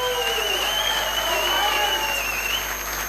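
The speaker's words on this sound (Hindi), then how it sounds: "श्रीमान परशुराम सर के लिए मैं चाहूंगा एक जोरदार ताली होनी चाहिए।" Audience applause in a hall, a dense, loud, steady clapping for the whole stretch with a voice over it.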